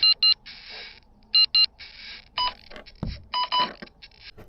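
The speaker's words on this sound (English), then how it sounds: "I've turned the alarm off." Depth sounder alarm aboard a Drascombe Lugger sailboat, sounding over water about 30 feet deep: bright electronic beeps in quick pairs, repeating several times, close and clear with faint background noise between them.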